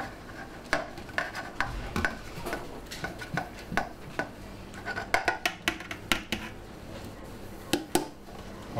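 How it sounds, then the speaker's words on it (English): A bowl is washed by hand at an animal rescue center, with a rapid uneven series of clinks, knocks and scrapes of dishware at close range and no one talking. "Now I need to wash one bowl"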